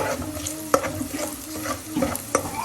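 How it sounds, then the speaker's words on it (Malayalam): A spoon stirs salt into a panful of violet cabbage thoran, giving a soft sizzle broken by several sharp scrapes and taps against the pan, close and clear, with no voices. "അതിൽ എല്ലാം കൂടെ നന്നായി മിക്സ് ചെയ്യും."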